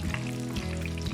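Menchi katsu deep-fries in hot oil, a steady soft bubbling sizzle under a low droning hum, close and continuous with no speech.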